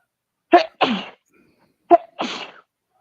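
Two pairs of sneezes, each a sharp intake followed by a burst, loud and close in a quiet room with a pause between the pairs.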